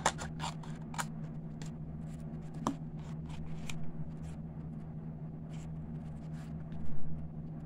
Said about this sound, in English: And I'm just going to cut a little piece here.